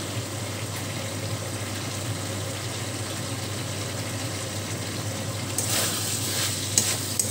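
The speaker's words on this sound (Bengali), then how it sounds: "আর যে ক্যাপসিকামগুলো রেখেছিলাম সেই ক্যাপসিকামগুলোও এখন দিয়ে দেবো।" Capsicum fries with cauliflower in a pan, a steady close sizzle with a low hum beneath, brightening into louder crackling near the end.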